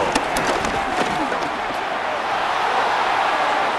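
A large crowd roars and cheers continuously in the football video game Madden 26, Packers vs. Bengals, a dense, steady wall of noise with no clear pauses.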